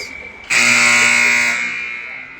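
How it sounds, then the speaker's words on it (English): Ice hockey period-end buzzer blares at an amateur championship game, one long loud harsh tone that starts abruptly and runs about a second before fading into arena noise. "they're not even going to drop the puck as the buzzer sounds"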